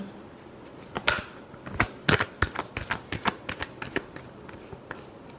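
Tarot cards are shuffled by hand in a quiet room, with a run of crisp riffling flicks and soft slaps in quick uneven bursts, close and faint, with no voices.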